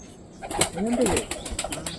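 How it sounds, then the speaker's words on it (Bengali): Two pigeons released into the air, their wings flapping in a brief burst of take-off and flight, with rapid wingbeats over outdoor background noise. "এইবার টোটালি দুটো পায়রাকে আমরা উড়িয়ে দেবো"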